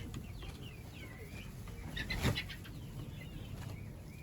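Weak, sickly hens in a poultry coop clucking softly, a few faint calls over a low rustling background, with one slightly louder squawk midway.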